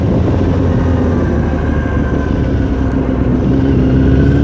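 A powerful motorcycle engine roars close by with a steady, loud drone and a sustained engine tone. The noise continues without a break, like a bike passing or idling nearby.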